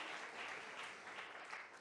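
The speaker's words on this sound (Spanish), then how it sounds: "Fuerte ese aplauso a nuestro Dios en esta tarde." A church congregation claps together in worship, a dense, even wash of many hands applauding at a distance, faint and sustained throughout without pause.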